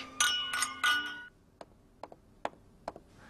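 Glasses clink three times in quick succession during a toast, bright and ringing, followed by several lighter taps and clicks as the drinks are set down.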